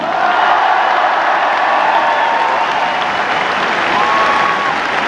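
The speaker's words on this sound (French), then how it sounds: "je vous demande d'applaudir très chaleureusement" Loud, sustained applause from a large crowd at a Paris presidential campaign rally in Bercy, continuous dense clapping with a few faint cheers and whoops mixed in.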